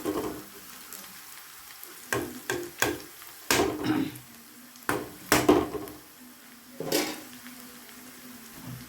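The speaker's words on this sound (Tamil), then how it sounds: "வதங்கிருச்சு இப்போ இதை எடுத்து நம்ம அப்படியே இந்த கொள்ளையில் கொட்டிடலாம்" Sautéed tempering tipped from a pan into cooked horse gram for a Tamil kollu kadayal, giving a run of sharp scraping and sizzling bursts at an uneven rhythm, close by, with quieter stretches between.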